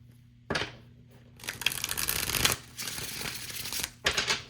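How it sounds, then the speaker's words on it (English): Tarot cards being shuffled by hand: a soft first riffle, then a longer papery rustling burst, a quieter stretch of sliding cards, and a final short shuffle, close and fairly quiet. "One more shuffle."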